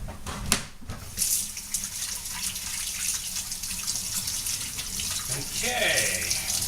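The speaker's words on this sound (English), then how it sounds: "I'll give my fingers a wash" Kitchen tap water running while fingers are washed clean of burger grease: a continuous hiss and splash of flowing water with a few louder splashes, moderately close.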